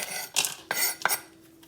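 Chopped walnuts tipped into a bowl, a few brief rattling scrapes and clatters in quick succession, close and moderately loud.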